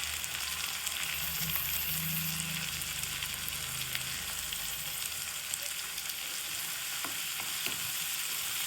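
Chopped tomato fries with softened onions in a hot pan, a loud, continuous, close sizzle with faint stirring and no talk.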